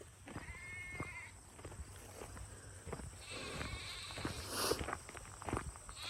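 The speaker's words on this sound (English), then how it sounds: "This one fucking sheep." A sheep on a farm bleats several times in short separate calls, close and fairly clear, with scattered footsteps and outdoor rustling between the calls.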